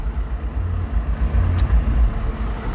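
Inside a moving bus during a college friends' trip to Chikkamagaluru, a steady low engine rumble blends with continuous road noise, close and loud throughout, with no talking.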